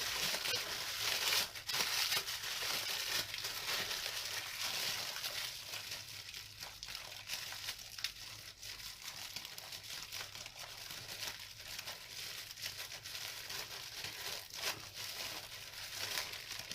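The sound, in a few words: plastic bag full of salt crinkling as air is pressed out and tied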